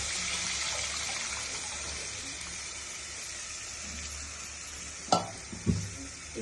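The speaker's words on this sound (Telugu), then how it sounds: "చింతపండు రసం పోసుకోవాలి." Tamarind juice poured into a hot curry pan, a broad sizzling, stirring wash of liquid that settles down, followed by a couple of sharp clinks of a utensil against the pan near the end.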